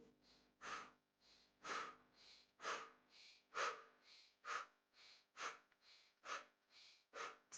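Quick, rhythmic breaths pushed out through the mouth during a lymphatic drainage yoga session, about a dozen sharp exhales evenly spaced and close, with no talking over them.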